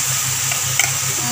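Grated coconut stirred in a wok with melted ingredients, a steady close scraping and soft sizzling texture with a faint tick partway through, no voices over it.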